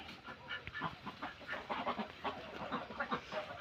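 A flock of laying ducks, each over one and a half kilograms, calls in a dense, overlapping chorus of quacks and clucking notes, steady and fairly near throughout.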